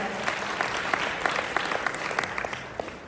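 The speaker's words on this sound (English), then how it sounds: "Give them a good round of applause, please, guys." Steady applause from a gala dinner crowd, dense clapping with scattered sharper claps standing out, fairly close and continuous throughout.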